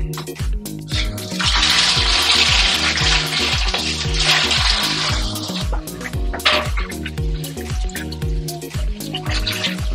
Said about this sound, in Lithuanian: Ir galime pilti vandenį.